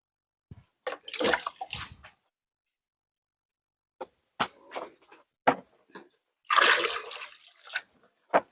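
Water is poured into a hydroponic vegetable reservoir in a few short splashing bursts separated by quiet gaps, with scattered drips and sloshes, close and fairly soft.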